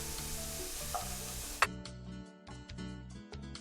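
Onions, carrots and celery sizzle in a pan for a Northern Italian bolognese, a bright frying hiss under steady background music that drops away suddenly, leaving the music with faint ticks.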